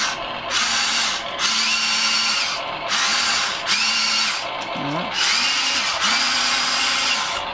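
Remote-control toy excavator with a whining electric motor that runs in repeated bursts as the toy reverses and turns, loud and close with brief pauses and pitch wobbles between moves.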